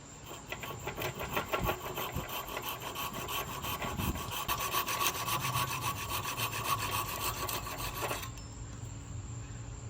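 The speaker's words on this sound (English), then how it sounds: "now what I'm gonna do is I'm gonna cut this excess off" A saw cuts excess wood off the handle of a German throwing axe during hafting, with rapid, even back-and-forth rasping strokes, close and steady, that stop abruptly near the end.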